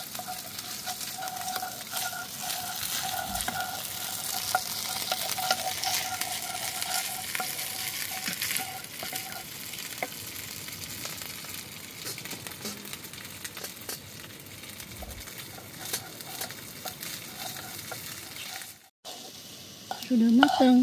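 Nasi goreng being stirred and fried in a pan at night at a hillside campsite, a steady close sizzle with spatula scrapes running throughout, faint background noise, and a brief louder clatter near the end.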